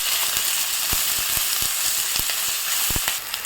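Chopped green chilli and tomato fry with a loud, steady sizzle in a pan, and sharp clicks of a spatula scraping and stirring come at an irregular pace.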